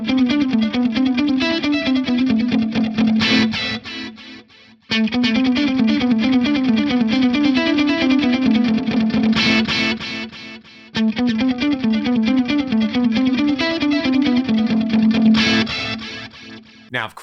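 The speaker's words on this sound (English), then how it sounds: "I've got the digital stereo dialed up for a dotted eighth note delay." Electric guitar played through an Axe Fx with modulated dotted-eighth stereo delay, a distorted, repeating melodic phrase trailed by wide, wavering echoes, looping in several passes with short gaps between, no talking.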